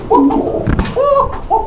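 Pigeons at a low-price pigeon market in Bangladesh giving deep, rolling coos in two or three close, loud phrases, with a brief thump between them.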